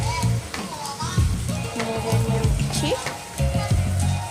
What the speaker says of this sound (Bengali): তেলের মধ্যে আমি প্রথমে কী দিয়ে দিচ্ছি বড়ি তো বড়িটা দেওয়ার পরে আমি এটাকে একটু নেড়ে নেবো